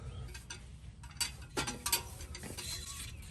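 A Ford Performance X pipe is wiggled onto the catalytic converters of a 2015 Mustang GT, giving faint metallic clinks and scraping rattles in short irregular bursts, close by and quiet.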